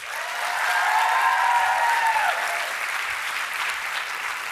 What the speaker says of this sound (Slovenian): dajte si en velik aplavz